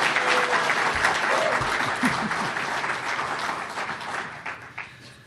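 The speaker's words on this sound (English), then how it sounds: "I think we ought to give a round of applause to Althea" Audience applause at a lecture event on the University of Virginia and Thomas Jefferson, sustained steady clapping from a large crowd filling the room, holding strong before gradually thinning toward the end.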